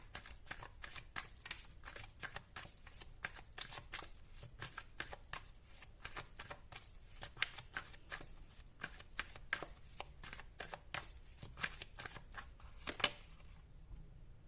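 Tarot cards being shuffled by hand, a steady run of quick crisp riffling flicks close by, continuing for several seconds with no talking before stopping near the end.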